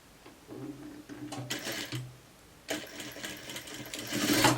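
A sewing machine runs in several close bursts while stitching fabric, with brief pauses between runs and a short backstitch burst at the end; no one talks.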